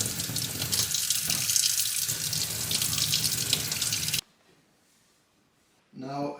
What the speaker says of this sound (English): I'm gonna cool this saucepan a little bit under water like this